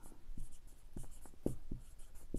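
Chalk or marker strokes on a board during a class 7 maths lesson, a run of short dry taps and scrapes in an uneven rhythm, close and fairly faint.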